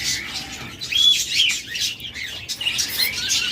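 Caged budgerigars and lovebirds chirp and tweet in a busy, overlapping chorus of bright calls at a bird seller's, fairly close and continuous, with no talk.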